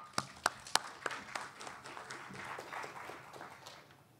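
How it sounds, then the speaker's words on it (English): An audience at a TSC 2017 plenary session in San Diego applauds after a speaker's introduction: a few sharp, close claps quickly blend into soft, steady crowd clapping that slowly fades. "Let's give a round of applause for Anirban."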